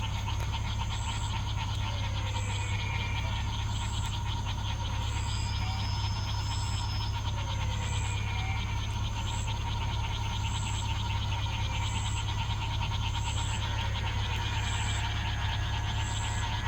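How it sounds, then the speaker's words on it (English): A chorus of frogs calls through the evening near a jungle airstrip, steady pulsing croaks and repeated chirps layered over a constant low hum, continuous and fairly faint. "And the frogs also provided a wonderful evening chorus."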